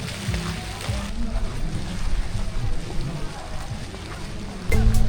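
Steady rain falls around a Vietnamese hilltop resort of French-style castles near Da Nang under a typhoon warning, a dense continuous patter with low rumbling underneath and a louder swell near the end; faint voices may sit beneath it.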